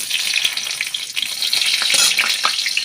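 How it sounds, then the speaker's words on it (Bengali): Nigella seeds (kalo jeere) and green chillies sizzling in hot oil, a loud, close, crackling hiss with continuous spitting pops. "তেলটা গরম হয়ে গেছে, এতে দিয়ে দেবো আমি অল্প একটু কালো জিরে আর 3 থেকে 4টে কাঁচা লঙ্কা"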